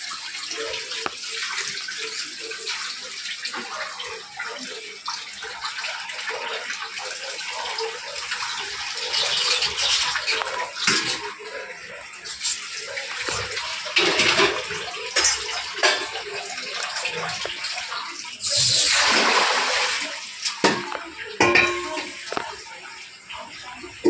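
A tap runs while hands are washed, a continuous splashing stream with gushes and variations as the hands move under it; voices speak intermittently over the water.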